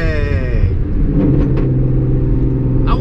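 A Hyundai Genesis Coupe pulls away in second gear, its engine note rising steadily under load as a loud, close, continuous drone, with no talk.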